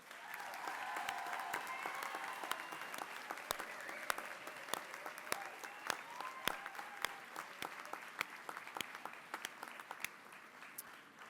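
An audience at a diploma ceremony for graduates of a Catholic school of social service gives sustained applause, a dense patter of many hands clapping without a break, heard from some distance.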